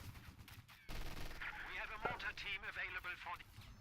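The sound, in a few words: Vickers machine gun fire in a WWII strategy video game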